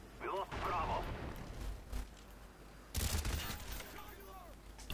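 A silenced gun in a shooter game fires in rapid bursts among booming explosion-like impacts, loud and jumbled, with speech mixed in.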